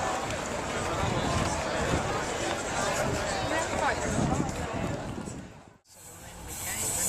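Busy crowd of tourists at an Italian sightseeing spot, a dense murmur of many voices and footsteps close around, steady and loud before briefly dropping out near the end.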